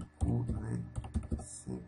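Computer keyboard keys tapped in short, separate strokes during Photoshop work, including a press of the enter key, close and clear, with someone talking over the typing.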